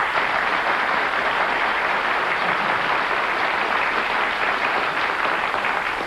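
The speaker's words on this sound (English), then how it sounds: "despite the crazy applause from this audience" Roaring studio audience applause on a 1972 television game show, a thick, unbroken wall of clapping that holds loud and steady for six seconds before tapering slightly at the very end.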